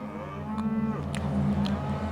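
An old cow on an Australian dairy farm gives a single long, drawn-out moo, close and clear over a steady low background hum.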